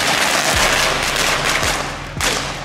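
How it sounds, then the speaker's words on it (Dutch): Firecrackers set off outdoors during an early New Year's fireworks session, several sharp cracks in quick succession, loud and close, with a crackling burst at the end. "Knetterrotjes."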